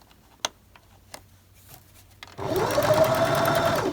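Scattered soft taps and clicks lead into a steady, close whirring run of a sewing machine stitching a fabric Advent calendar pouch for embroidery, lasting to the end.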